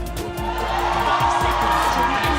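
Crowd at a Mobile Legends MPL esports match, Blacklist International versus Smart Omega, cheering and shouting in a steady, dense roar that fills the venue for a couple of seconds, with a faint public-address hum underneath.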